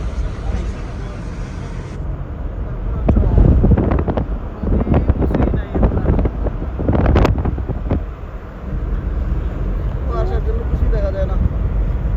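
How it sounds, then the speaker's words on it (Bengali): Cold wind at a river bank on the Padma near Mawa Ghat rumbles steadily against the microphone in loud gusts, with people talking nearby. "ঠান্ডা বাতাস থাকে"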